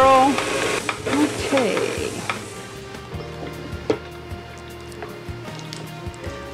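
A mixer whirls brownie cookie batter in a loud, steady burst for about two seconds, then cuts off, leaving quieter clinks and light handling noises.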